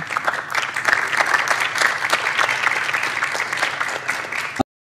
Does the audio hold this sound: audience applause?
yes